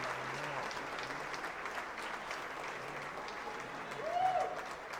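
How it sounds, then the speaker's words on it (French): A standing ovation at a French stand-up comedy show: sustained, dense crowd clapping throughout, swelling briefly near the end with a faint cheer rising above it. "Standing ovation."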